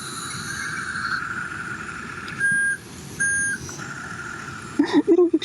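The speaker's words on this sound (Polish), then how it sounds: "I robi pikanie, jak jedzie do tyłu." Small remote-controlled excavator backing up on sand, giving two short, clear electronic beeps over a steady motor whine, followed by a brief rattle.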